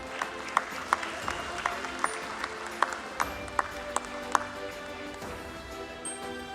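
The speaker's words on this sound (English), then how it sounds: "Let's give them a round of applause," Audience applause at the NSDL listing ceremony at the BSE, a sustained even wash of clapping from a hall crowd with bright sharp pings recurring through it at a steady pulse, then fading slightly toward the end.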